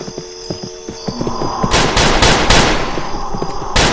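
Gunfire from the Roblox western shooter Westbound: scattered sharp shots at first, then a dense, loud burst of rapid overlapping fire with a steady hum underneath.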